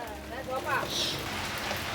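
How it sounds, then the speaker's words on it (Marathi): Heavy monsoon rain in the Konkan countryside near Chiplun, Ratnagiri: steady rain hiss fills the scene, a continuous wash of falling water with a brief voice rising over it partway through. "बघा कसा जबरदस्त पाऊस पडते"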